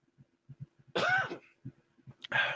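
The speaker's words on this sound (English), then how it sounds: "I had some cough, had some spittle in my throat" A man on a live show coughs and clears his throat, two sharp bursts close to the mic separated by short pauses, with faint low background sounds between them.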